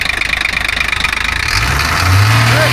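A 1985 Ford Hino diesel engine idles with a steady knocking chug, then revs up partway through, its drone rising and holding loud and close.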